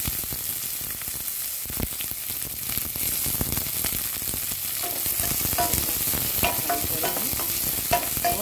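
Onions sizzle and fry in a little oil in a pan for oats khichdi, a steady close crackle with occasional stirring scrapes running throughout.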